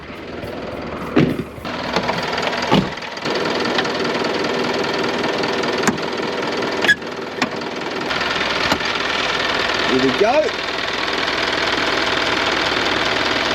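A 6-ton truck engine with 427,000 km on it runs steadily at idle, a continuous close mechanical hum with some knocking clatter and a few brief clanks, while a voice speaks briefly at the start.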